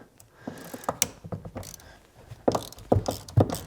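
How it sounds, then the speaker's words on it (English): A 10 mm ratchet loosening the negative battery terminal on a Lamborghini Gallardo Superleggera, with close, quick clicking strokes in uneven bursts. "Okay, we got our 10 mil. Loosen up the terminal."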